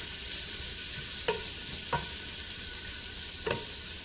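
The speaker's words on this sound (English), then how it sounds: "here we go with our onions and garlic. Give them a quick stir." Onions and garlic fry in a pan before red Thai curry paste goes in. A steady sizzle runs throughout, and three sharp spoon scrapes or taps against the pan come about a second apart.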